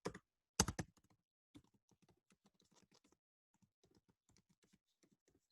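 Typing on a computer keyboard in a quiet room, beginning with a few louder key strikes and then running into a rapid, light, irregular patter of keypresses with no voices.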